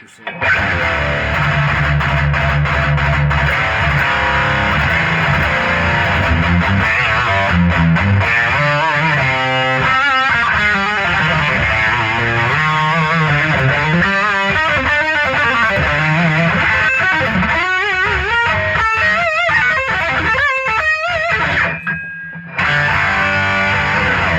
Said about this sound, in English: Starting to get pretty heavy with our distortion now. And that's on the lead channel.